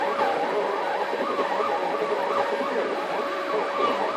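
A 3D printer works in a garage, its motors giving a steady, moderately quiet mechanical whine and buzzing hum with small fluctuations throughout. No one talks.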